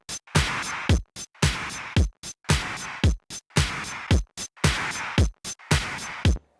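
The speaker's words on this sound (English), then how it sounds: "close miking recreates placing the mic close to the speaker" A repeating drum-like pattern of sharp hits and short noisy bursts runs through Arturia FX Collection 3's close-miking speaker simulation, giving a close, dry, boxy tone. The loop cycles steadily and evenly with no voices.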